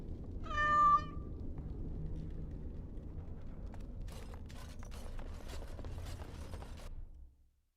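A cat in Dragon Age: Awakening lets out one clear, bright meow near the start. A steady mechanical hum runs underneath, and rapid clicking ratchet-like sounds follow before everything fades out.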